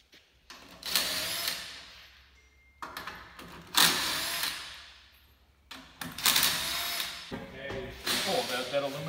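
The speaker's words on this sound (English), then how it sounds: "we're loosening the lug nuts and gonna take the damn wheels off" Impact-style power tool bursts loosening lug nuts on a Honda Recon ATV wheel, four loud whirring bursts with short gaps between them, close by, with some talk in the background.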